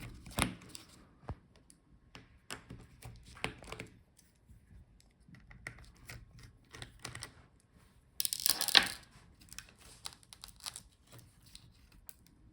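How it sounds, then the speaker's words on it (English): Phillips screwdriver backing battery screws out of a Dell XPS 13 9310 laptop: sparse, quiet metallic clicks and ticks spread across the clip, with a brief louder rattle near the end and no voices. "Let's start by taking out the battery screws."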